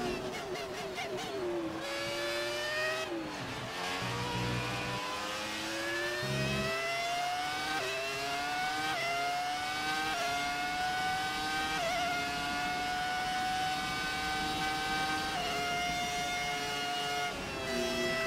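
Formula 1 cars in the Formula 1 2004 video game accelerate with a loud, continuous high-pitched engine whine that climbs through repeated gear shifts, other cars buzzing close by throughout.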